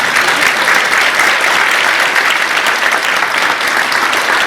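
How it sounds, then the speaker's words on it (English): A conference audience at a veterans' plenary discussion applauds its panelists, a loud, dense, even wash of clapping that holds steady throughout with no voices over it. "A big round of applause for our panelists."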